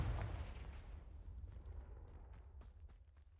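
A Confringo explosive spell goes off in Hogwarts Legacy, a deep muffled blast at the start that rumbles and fades away over a few seconds, fairly faint, with small crackling pops as it dies down.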